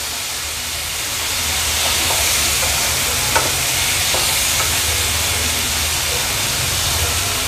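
A crushed mixture is stir-fried in a pan over a medium flame, giving a steady sizzle with light scraping and stirring noises, close and fairly loud.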